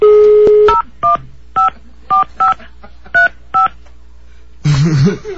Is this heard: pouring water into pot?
no